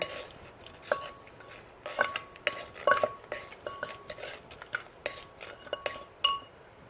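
Utensils clink and scrape against a mortar while Thai som tam papaya salad is tossed together with khanom jeen rice noodles, giving a steady run of close, light taps and knocks with no voices.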